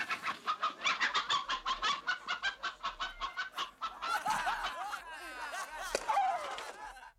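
A rooster in a 1978 period film scene gives a rapid, loud series of rhythmic squawking calls, then breaks into a more scattered flurry of agitated clucks and cries close by.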